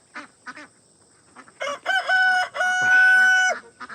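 Horntail, a homestead rooster, crows loudly and close by, one long drawn-out cock-a-doodle-doo after a few clucks and soft background noises.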